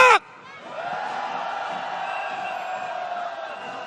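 A protest march crowd in Hongdae, Seoul, at a Saturday candlelight rally demanding President Yoon Suk-yeol's impeachment: one loud shout opens, then a broad, sustained roar of cheering and shouting voices rolls on at a steady level.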